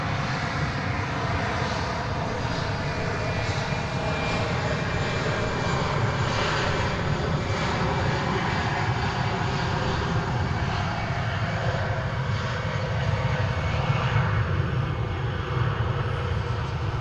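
Airliner jet engines at DFW Airport, a steady broadband roar that holds at an even level throughout, heard from a distance without a voice over it.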